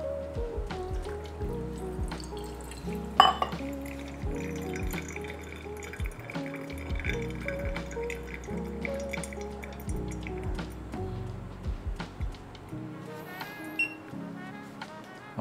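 Water, 100 ml, poured through a Hario paper coffee filter with no grounds, trickling and dripping in a steady patter of small drops close by, with no talking.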